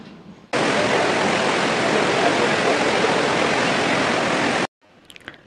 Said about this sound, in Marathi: समोरून कोसळणारं हे पाणी, वरून येणारा नैसर्गिक प्रकाश खूपच छान दिसत आहे.